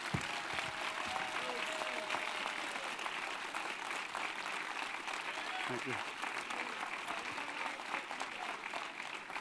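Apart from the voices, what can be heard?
audience applause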